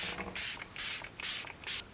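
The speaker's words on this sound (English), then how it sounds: "cover your eyes when you spray it" Four quick bursts from a Beauty Crop makeup setting spray mister, each a sharp airy hiss about half a second apart, close and fairly loud with no talk.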